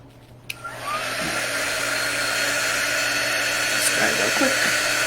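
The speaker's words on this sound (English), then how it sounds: "The dryer's on the wrong side." A hair dryer drying a DIY fall door sign whirs steadily at close range, a constant airy roar that starts after a brief click and holds for several seconds.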